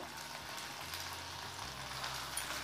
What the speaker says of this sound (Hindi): तेल गरम हो जाइए आलूटा दे देबा